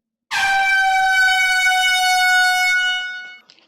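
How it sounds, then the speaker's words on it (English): A single loud air horn blast starts abruptly after a brief silence, holds a steady brassy tone for about three seconds, then cuts off. "Air horn coming in 3"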